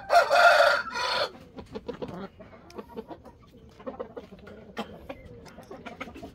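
A rooster lets out a loud, close crow at the start, followed by chickens clucking in short, irregular bursts.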